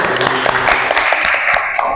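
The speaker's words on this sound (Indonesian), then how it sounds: "Oke, tepuk tangan" Students in a classroom applaud, fast overlapping hand claps forming a brief even patter, with voices faintly underneath.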